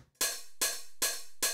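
An open hi-hat sample distorted with Arturia Dist Coldfire repeats four times at a steady pace, each hit a loud, gritty, sustained hiss with a thicker body.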